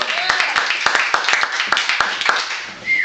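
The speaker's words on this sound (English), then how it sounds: "now let's have a round of applause for Gloria Fabrizio" Loud, close applause from a live beach Christmas show audience, dense rapid hand claps forming a steady wash that thins out near the end.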